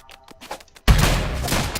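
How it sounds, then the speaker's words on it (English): Rapid-fire gunshots in the modded video game ROUNDS: after a few soft clicks, a sudden loud, dense burst of continuous automatic fire with heavy booming blasts, alone without speech. "Look at my bullets! So you basically have rapid fire."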